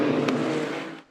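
Race cars in the Michelin Le Mans Cup roar past on track during an overtake, a brief loud engine rush that fades at the end.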